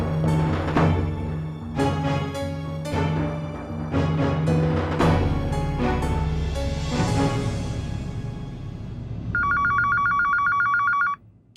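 A telephone rings loudly with rapid repeated electronic bell trills that stand alone after a stretch of dramatic music and sharp hits in a Hindi TV serial scene, then stops abruptly.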